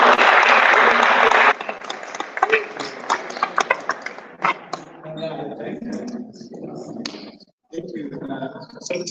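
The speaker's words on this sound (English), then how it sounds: "let's give a hand of applause to the ladies" Audience applause fills the opening stretch as a dense, loud clatter of clapping, then breaks into scattered claps mixed with voices and chatter for the rest.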